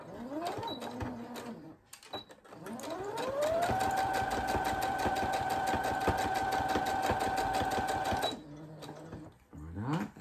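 A sewing machine topstitches a children's fabric drawing book, running in short starts, then one long steady burst of rapid stitching with a rising motor whine, stopping and restarting at the end.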